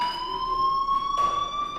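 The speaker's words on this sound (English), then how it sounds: "Hey, do you hear that fire alarm?" Fire alarm in the video game Life Is Strange, a steady electronic tone that holds its high pitch throughout with no talk over it, briefly joined by a burst of noisy background sound partway through.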